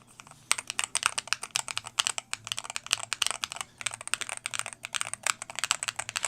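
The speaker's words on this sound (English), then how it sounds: "They go across the space bar to see if like the stabilizers are working correctly and to see if there's like unevenness." Rapid typing on an MCHOSE ACE 68 Turbo Hall Effect keyboard, a steady run of crisp, close key clacks with repeated strokes across the space bar, heard alone without talk.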